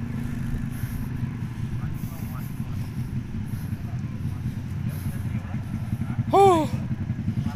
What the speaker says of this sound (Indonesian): Perjuangan motor taksi.